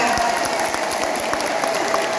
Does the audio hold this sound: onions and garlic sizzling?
no